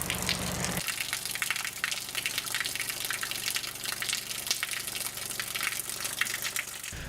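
Water gushes and splashes steadily in a continuous rushing wash, loud and alone, in a video game world where it glitches and floats in midair.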